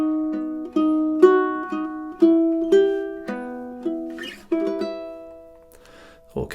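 Ukulele plucking measures of Fernando Sor's Study in B Minor, clean separate notes and chords ringing and decaying in a slow, steady rhythm, played alone and close.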